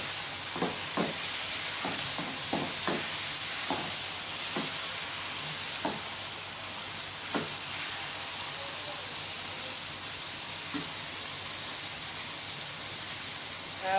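Cumin seeds sizzle in hot oil alongside fried chicken, a steady hiss with scattered light ticks and pops in the first half, fading to an even, moderate fry with no talking.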